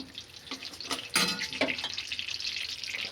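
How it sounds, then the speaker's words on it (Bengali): Potatoes for chicken biryani fry in hot mustard oil in a heated pan, giving a steady soft sizzle broken by a few sharper splashing bursts, with no talk. "এবার বিরিয়ানির আলুগুলো আমি ভেজে নেব। সর্ষের তেল দিয়েছি,"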